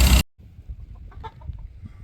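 Chickens, roosters and guinea fowl on a small farm make soft, scattered clucks at a modest distance after a brief loud burst at the start.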